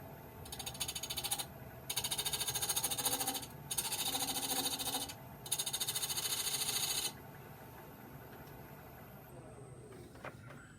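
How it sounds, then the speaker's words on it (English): An oscillating multi-tool cuts into cocobolo wood in four bursts of high-pitched buzzing, each one to two seconds long with short pauses between, close and fairly quiet, then settling into faint workshop background. "To go in here with this multi-tool and cut it"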